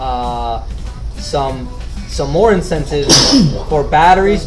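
A single sharp sneeze from a person bursts out mid-conversation, sitting between stretches of steady talking voices.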